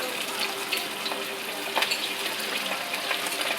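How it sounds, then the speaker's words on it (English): Pork pieces sizzle in oil heated to 375 degrees during a second fry, a steady, close crackling hiss with small pops running throughout. "Now I'm gonna put it 375. And just go fry it a second time."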